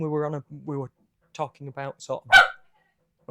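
During a live podcast, a dog gives a brief sharp bark, close to the microphone, amid conversational speech from people talking before and after.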